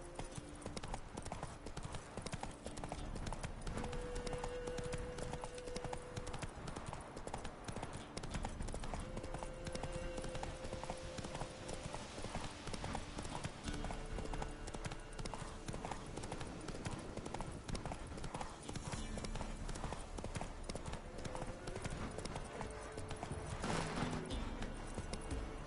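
Horse hooves clip-clop in The Witcher 3, a steady rhythmic gait from a ridden game horse over continuous in-game ambience and music.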